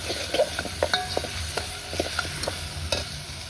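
Ginger garlic paste frying for a spicy mutton curry cooked over a wood-fired chulha, a steady close sizzle punctuated by scraping stirs of the spoon through the pan, with no talking.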